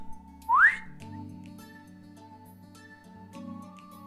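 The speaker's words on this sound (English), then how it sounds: "Try whistling." A single short rising whistle from a person in VRChat, bright and close, followed by quiet background music.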